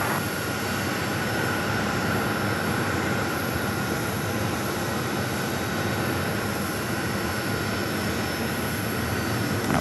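A jet aircraft arriving on runway 8 at Phoenix Sky Harbor, a continuous loud engine roar and rushing broadband noise holding steady throughout with no voices.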